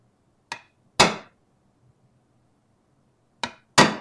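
Hammer blows on a chisel trimming a Mandalorian shoulder armor piece: four sharp, close strikes that come in two pairs separated by a quiet gap.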